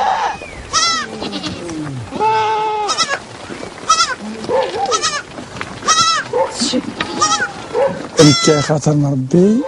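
Goats and sheep from a nomadic herd of about 100 goats and 80 sheep in Morocco's Atlas Mountains bleat repeatedly, calls overlapping near and far, with some talking mixed in.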